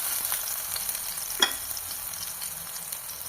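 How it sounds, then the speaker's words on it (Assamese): Brinjal pieces frying in hot oil on a tawa, a steady soft sizzle throughout with a single brief sharper crackle partway through. "তেলখিনি গৰম হ'লত এতিয়া মই বেঙেনা কেইপিচ অকণমান গৰম কৰি ল'ম।"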